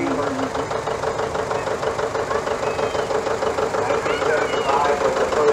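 A 1955 tractor rolling in a tractor parade, its engine running with a steady knocking, idling throb that stays close and fairly loud, with an announcer talking over it throughout.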